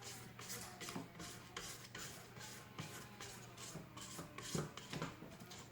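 A spatula scrapes the sides of a bowl of brownie batter in steady repeated strokes, a close, soft rasping rub with no talk.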